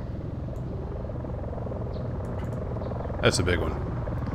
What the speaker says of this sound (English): Yeah, it's a helicopter.